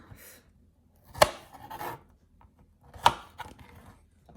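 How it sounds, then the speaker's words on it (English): A knife slicing through fresh strawberries, trimming the ends and halving them, gives two sharp cutting thuds about two seconds apart with soft handling rustles between, close and fairly quiet. "I'm just going to trim off the end of the strawberry, then cut them in half."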